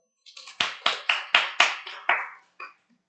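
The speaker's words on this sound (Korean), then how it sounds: "박수 쳐요." A small class of students in a civil law lecture claps, about seven sharp, separate claps in a rough rhythm, each decaying quickly, then a final lone clap after a short gap.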